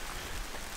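Steady rain falling outdoors at a forest dugout build site, a soft continuous hiss of drops without any voices.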